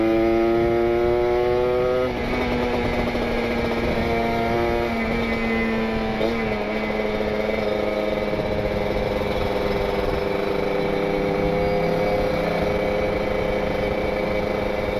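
Kawasaki Ninja RR two-stroke motorcycle fitted with a PWK28 carburettor and an R9 Neo Mugello carbon exhaust, idling close by with a loud, steady buzzing drone that shifts pitch as the throttle is blipped early on, with no talk.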